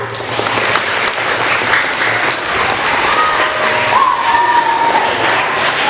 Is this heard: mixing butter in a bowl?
no